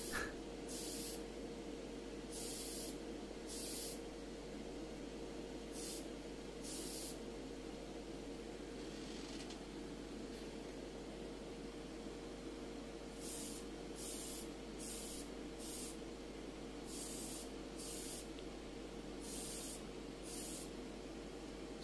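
Repeated bursts of Mr. Surfacer 1500 primer hissing from a rattle can, short blasts separated by pauses, over a steady low background hum.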